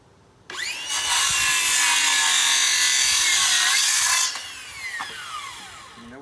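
A wooden 4x4 beam being cut through with a saw, a loud steady rasp that holds for several seconds and then stops abruptly, followed by faint clatter. No one speaks.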